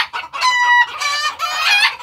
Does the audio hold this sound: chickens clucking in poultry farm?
yes